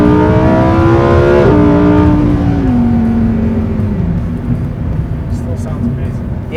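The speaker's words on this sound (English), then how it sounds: "I'm just going to kind of give you an example of what it drives like, what it sounds like in that mode at wide open throttle." A Lamborghini Huracan Performante in Strada mode accelerates at wide open throttle, its engine note loud and close, climbing steadily and then easing through a smooth upshift before rising again.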